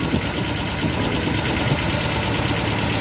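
A 1975 MGB GT engine idles steadily after a new alternator, fan belt and wiring were fitted, a close, loud, even running rumble with a faint rhythmic knock throughout.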